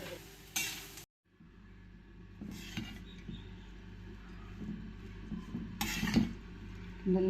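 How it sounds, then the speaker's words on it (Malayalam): Coconut, chilli, coriander, ginger and curry leaves being stirred and dry-roasted in a pan, giving soft scraping and scattered bursts of clatter from the spoon against the metal, fairly quiet and with no talking. "നമുക്ക് ഇളക്കാം നന്നായിട്ട് ഇങ്ങനെ ഇളക്കാം"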